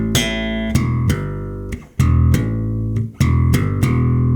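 Bass riff on bass guitar with every note held full length, a steady run of plucked low notes that ring into each other with only brief dips, loud and with no voice over it.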